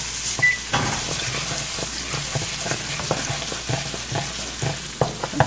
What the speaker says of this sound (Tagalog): 2 tablespoons olive oil. Lalagay po tayo ng garlic.